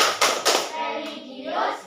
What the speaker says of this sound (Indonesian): Mari kita lakukan tepuk PPK.